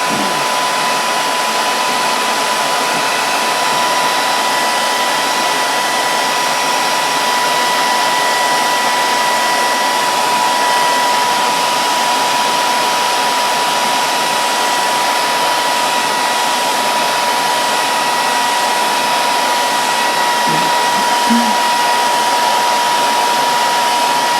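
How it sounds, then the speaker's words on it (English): A hair dryer drying paint on a painted bust blows continuously at a steady, loud pitch for the whole stretch, with no voices over it. "And then with my hair dryer, dry it out a little bit."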